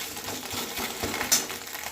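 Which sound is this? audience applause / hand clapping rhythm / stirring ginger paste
stirring ginger paste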